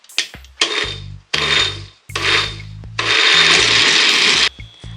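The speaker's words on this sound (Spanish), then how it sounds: "Ya que todo está en la licuadora, simplemente licuamos." A blender mixing flan batter whirs loudly in several short bursts, then runs continuously for a longer spell before stopping, heard close up.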